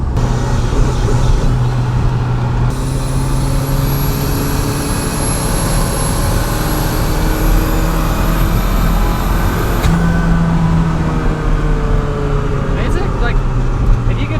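Turbocharged Toyota MR2 with a manual boost controller accelerating hard, a loud steady engine drone with rising tones and a high turbo whine through the middle, heard from inside the car.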